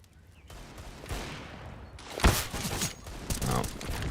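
Pistol shots crack in an esports game match, several sharp reports spaced unevenly, one louder blast standing out in the middle, over a low background of game noise.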